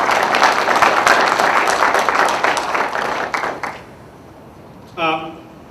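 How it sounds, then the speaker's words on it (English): Audience applause for Gerald Marcus at a community event, dense clapping that holds steady for several seconds, then thins and dies away, followed by a brief spoken voice. "I'd like to start by inviting you all to join me in a round of applause for Gerald Marcus"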